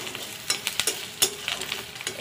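Crumbled fish roe sizzles with onion in a pan, stirred briskly so that quick scraping strokes cut through a continuous close frying hiss, with no voices.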